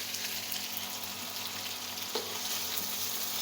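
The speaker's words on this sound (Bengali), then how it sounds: "এটা আমি ভাজা করে তুলবো" Food fries in a pan with a steady, dense sizzle that stays close and continuous throughout, with one brief clink partway through and no talking.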